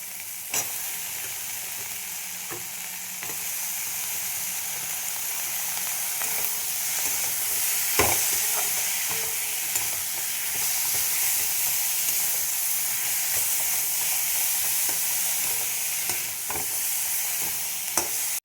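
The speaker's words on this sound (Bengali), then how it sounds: "তারপর দিয়ে দিলাম লাল লঙ্কা গুঁড়ো। এবার আমি এই পেঁয়াজ কলিগুলো দিয়ে দেবো।" Onion stalks and red chili powder sizzle in a pan, a long, even, hissing fry at moderate volume with scattered stirring clicks and scrapes, no voices.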